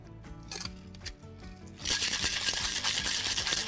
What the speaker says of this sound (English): Give that a good shake.